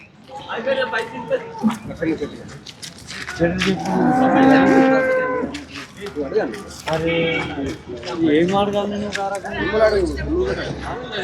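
Buffalo calves, Murrah and Jaffarabadi, moo repeatedly, loud and close, with several drawn-out bawls overlapping amid people talking at the busy, crowded outdoor Erragadda cattle market.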